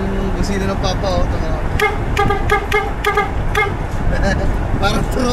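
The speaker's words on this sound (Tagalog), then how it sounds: "Angas ng busina ng papa oh." A loud road horn on a passenger vehicle blares in a rapid run of short honks that stops and restarts, close by over steady traffic rumble, with voices talking throughout.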